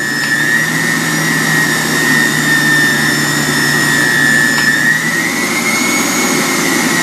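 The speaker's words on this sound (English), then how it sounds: "Let's see what the pulse mode sounds like." Centrifugal juicer, the Jettlash Uber Juicer, run in pulse mode: a continuous close motor drone whose pitch rises and dips slightly, with a brief click partway through and no speech.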